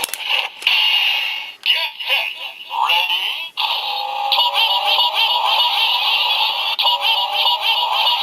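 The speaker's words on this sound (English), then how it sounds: "that was the air horn, because that's in this toy" Air horn sound effect from a Lupinranger DX VS Changer toy, a loud electronic blaring tone played through a small speaker, sustained with brief dips and stutters, close up.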